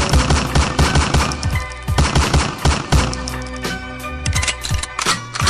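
Gunshot sound effects inside a German pop song, heard as loud, rapid bursts of fire mixed into the music and beat, running throughout the short excerpt.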